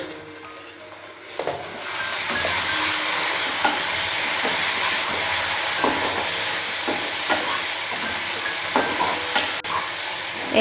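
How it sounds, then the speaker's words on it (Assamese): Mustard paste and spices fry for a rohu fish curry, making a dense, continuous sizzle up close. Light spoon taps and scrapes recur now and then, with no talking. "এইখিনি ভালকৈ ফ্ৰাই কৰি ল'ব।"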